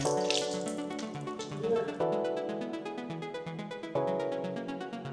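Water poured by hand onto a ceramic-coated 2024 BMW X6 M Competition, a close, steady splashing trickle with tonal ringing and a few brief surges as the flow shifts.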